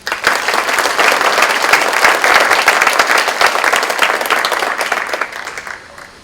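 Sustained audience applause at the 2015 Central Montco Technical High School Distinguished Alumni Awards ceremony, a dense, steady wash of many hands clapping close by that tapers off in the final second.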